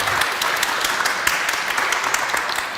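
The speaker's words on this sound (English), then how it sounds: "could we just give our Deans a warm round of applause for welcome?" A warm round of applause greets the deans at an evening event, a steady dense wash of many hands clapping close by, continuing without a break throughout.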